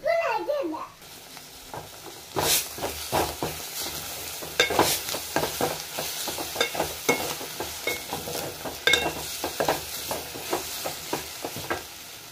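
Egg curry masala stirred in a pan, with repeated scraping clatter of a spoon against the metal over a soft steady sizzle, close and fairly loud, with a brief voice at the start.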